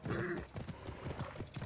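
A horse in the video game Assassin's Creed Origins whinnies briefly at the start, followed by a series of close, rhythmic hoof clops.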